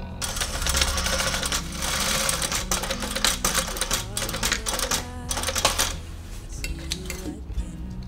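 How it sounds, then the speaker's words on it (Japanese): A leather long wallet's zipper seam is machine-stitched with the needle landing 4 mm from the edge, a fast, steady close rattle running through with short pauses, softening near the end under faint talk. "ここは針落ちが端から4ミリの位置になるようにして縫っていきます"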